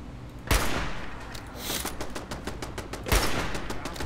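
Hunting rifle shots in the video game Fallout 4: two loud, sharp gunshots about two and a half seconds apart, each followed by a rumbling tail amid busy game noise.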